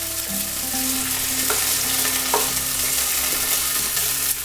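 Food fries in a pan over medium-high heat, giving a dense, steady sizzle with occasional stirring knocks, heard close up and alone.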